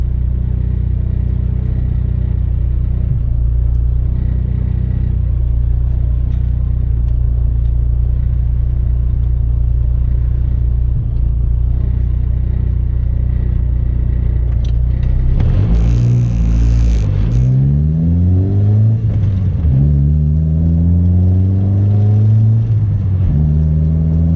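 A car engine with very long gearing hums at a low, steady drone, then accelerates hard in second gear, the revs climbing in rising sweeps that briefly dip between pulls, loud and close.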